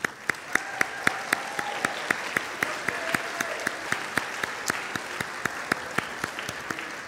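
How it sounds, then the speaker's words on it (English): Audience at a high school band spring concert claps in a steady, dense round of applause honoring all-state musicians, with sharp individual claps standing out over the crowd throughout. "Round of applause."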